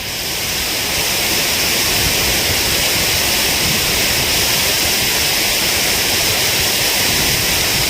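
A waterfall roars as a loud, constant rush of falling water, broad and unbroken from start to finish, with no voices.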